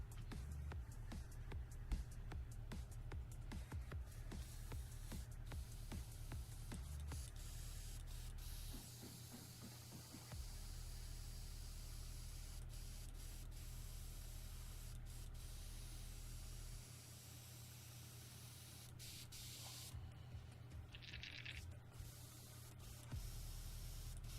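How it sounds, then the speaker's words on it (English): An airbrush sprays paint onto a figure with a steady hiss for most of the stretch, pausing briefly and starting again in short bursts, close and fairly loud with no talking. "just having some issues with the airbrush today"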